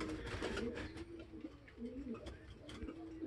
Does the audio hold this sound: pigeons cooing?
yes